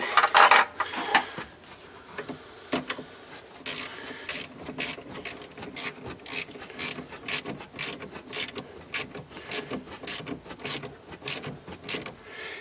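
Tightening the positive terminal nut on the 12V battery of a 2013 Toyota Prius with a ratchet, a long series of close, quick ratcheting clicks in uneven bursts, with a few louder knocks at the start.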